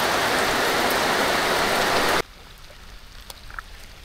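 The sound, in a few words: heavy rain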